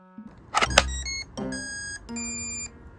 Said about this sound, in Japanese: まずこちらが MK1、